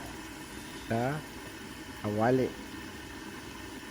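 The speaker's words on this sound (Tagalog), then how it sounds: "narinig nyo na yung tunog ng mantika" A steady low hiss and bubbling of hot cooking oil frying in a pan while making Batangas adobo, continuous throughout, with a person speaking briefly twice over it.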